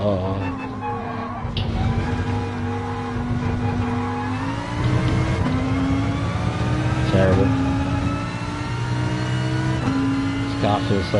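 Race car engine in the GT Sport video game, a sustained revving drone that climbs and drops with gear shifts, with a voice talking over it.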